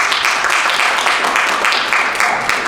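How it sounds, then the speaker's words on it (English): Audience applause at a fan convention, a short burst of steady clapping from a modest crowd, fairly loud and continuous. "Please give him a little applause."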